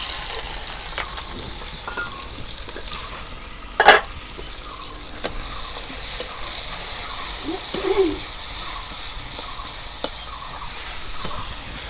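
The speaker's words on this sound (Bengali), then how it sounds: "তেল গরম হচ্ছে, এখন আমি পেঁয়াজ ভাইজা নেব" Sliced onions fry in hot mustard oil in a kadai for biryani, a steady close sizzle with occasional clinks and scrapes of stirring.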